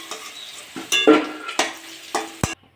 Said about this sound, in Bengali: ওই তেলে আমি আলুগুলো ভেজে নেব। লবণ দিয়ে দেবো, হলুদ দিয়ে দেবো, এগুলো ভালো করে ভেজে দেবো।